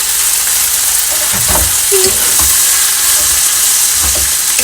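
Crispy pork and morning glory sizzle loudly in a hot pan, giving a steady, close frying hiss broken by a few soft scrapes and thumps as the food is stirred.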